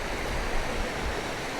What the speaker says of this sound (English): right now I'm on Barclay Creek and it's being fed by Barclay Lake